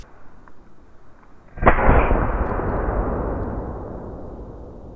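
A rifle shot fired at a roe deer during a hunt, heard as one sudden loud blast that rolls into a long, fading outdoor rumble lasting several seconds, with no talk over it.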